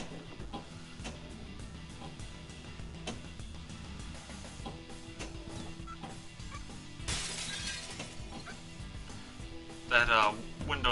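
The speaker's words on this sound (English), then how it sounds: "That window smashing delay always gets me." A window smashes on a Pinball FX 3 table: a bright glassy shatter bursts out about two thirds of the way through, amid busy electronic table sounds and music, with a voice talking throughout and a louder jingle near the end.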